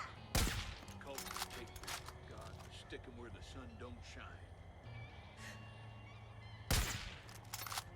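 Two loud, sharp gunshot bursts ring out in Far Cry 5, one near the start and one near the end, with quieter game sounds between them and a person talking over the action.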